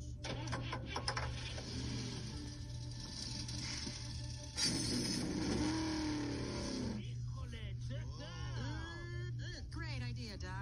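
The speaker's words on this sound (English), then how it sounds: "Gentlemen, start your engines." Cartoon race car engines start up and rev in a loud, continuous mechanical drone, a brighter burst midway, with animated voices talking over it throughout.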